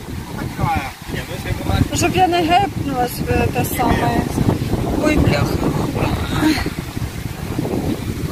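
Strong gusty wind during a sandstorm on the grounds of a Hurghada hotel in Egypt, rumbling and buffeting the microphone throughout while someone talks and exclaims over it.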